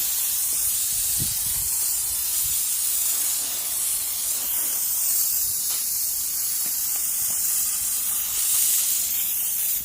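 A 2-litre foam car-wash sprayer spraying a motorcycle, a continuous loud airy hiss of pressurized spray with slight surges and a few faint knocks underneath.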